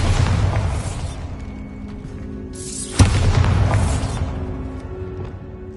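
A Bombarda blasting spell explodes in a Harry Potter video game: a single sharp boom bursts out midway over a rumbling, noisy game soundscape, then fades into a lingering roar.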